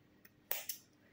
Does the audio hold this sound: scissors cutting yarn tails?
yes